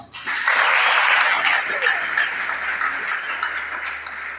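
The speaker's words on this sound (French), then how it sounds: "que je vous invite à applaudir chaleureusement" An audience at an institute's building inauguration breaks into warm applause, a loud, dense wash of clapping that swells quickly, holds, then eases off slightly toward the end.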